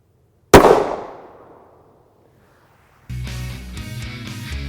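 A single loud, sharp 9x19mm Federal Hydra-Shok JHP gunshot from a 3-inch barrel into ballistic gel, decaying over about a second, then quiet before electronic beeping tones start.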